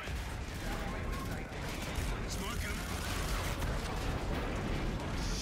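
Dense, continuous gunfire from the video game Call of Duty: Infinite Warfare, a steady loud barrage of overlapping shots and bursts filling the whole stretch with no pause.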